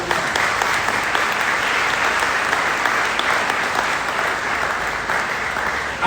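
Steady, full applause from a church congregation at a worship service, a broad wash of clapping that holds evenly for several seconds without talk.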